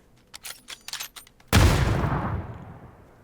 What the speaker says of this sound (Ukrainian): Граната.